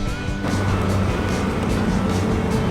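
A 1944 Foden classic lorry drives past on a road run of vintage trucks, its loud engine rumble filling the scene up close and staying steady throughout.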